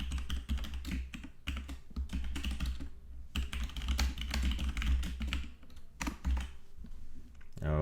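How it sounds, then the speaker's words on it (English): Rapid keystrokes on a computer keyboard fill the stretch, a dense run of close clicks and taps with brief pauses, while someone talks quietly underneath. "let's type submit."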